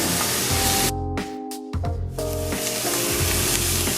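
Food browning in a hot pan for a vegetarian black bean sloppy joe, sizzling loudly and steadily, with a brief quieter dip midway as the contents are stirred or moved.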